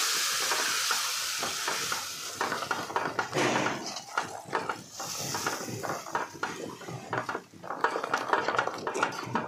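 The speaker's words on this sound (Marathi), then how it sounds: "चांगलं मिक्स करून घ्यायचं आहे।" Kaju kurma gravy being stirred in a pan, with a spoon scraping and clinking against the metal over a soft sizzle, in uneven strokes and close by, with no talking.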